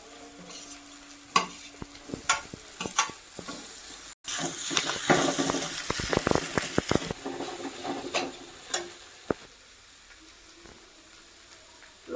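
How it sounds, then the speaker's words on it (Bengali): Potatoes frying in a pan with spices, salt and turmeric, stirred in uneven bursts of scraping and clatter over a sizzle that swells in the middle and then fades, with no speech. "আলুটাকে এখন ভালো করে কষিয়ে নিতে হবে"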